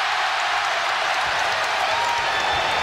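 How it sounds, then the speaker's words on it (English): Basketball arena crowd at a Providence versus DePaul game cheering loudly, heard as a dense, steady roar with applause that holds at a constant level throughout. "This crowd going berserk for a chicken sandwich?"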